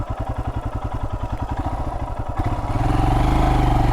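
A Royal Enfield Himalayan motorcycle engine idles at about 1,100 rpm with a steady, low chugging pulse, shifting to a slightly faster, rougher rumble partway through; close and fairly loud, no talking.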